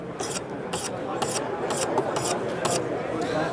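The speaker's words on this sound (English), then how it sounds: "I do some trial and error with the fine diamond stone, the 600 grit" Steel knife blade drawn over a fine 600 grit diamond stone on a Wicked Edge guided sharpener, a steady series of about seven close, even rasping strokes in regular rhythm with no talking.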